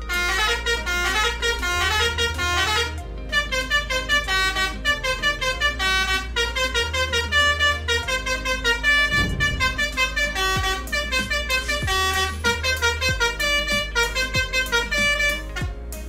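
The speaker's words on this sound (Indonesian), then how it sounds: "Berisik banget guys, teloletnya guys." A telolet bus horn in the bus video game Basuri Nusantara plays loud, repeated musical tooting melodies over a steady engine drone, with several short breaks between phrases.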